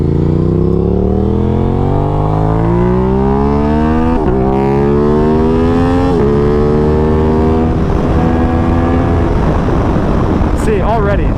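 A 2021 Aprilia RS660 motorcycle engine roaring through a series of downshifts, its pitch dropping and jumping back up several times amid loud wind rush, with a rider talking over it.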